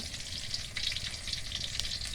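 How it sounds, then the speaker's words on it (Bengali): Pointed gourd frying in hot oil gives a steady, close sizzling hiss that stays even and unbroken from start to end, with no voices heard. "কিছুটা পটল ভাজা হয়ে গেল, আর কিছুটা ভাজা হলে"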